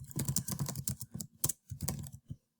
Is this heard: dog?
no